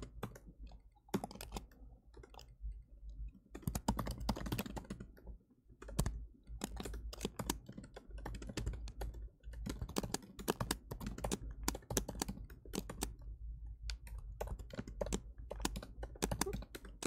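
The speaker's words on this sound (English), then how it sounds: "Kind of typing very slow on this one, and in accurately." Slow, uneven typing on a computer keyboard during a coding session, with scattered soft key clicks and occasional bursts of quicker taps, fairly faint and close, no voices.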